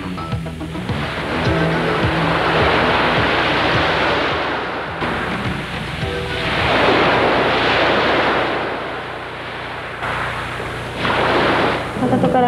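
Ocean waves wash onto a restored sandy beach in Kobe, Japan, swelling and receding in broad surges of rushing surf, fairly loud, over a low background hum.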